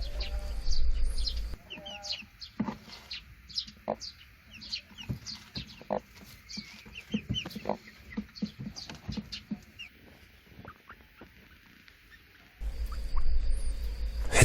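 A hen and her chicks settle on a high perch for the night, with soft scattered peeps, chirps and low clucks, quiet and intermittent against a faint background hum.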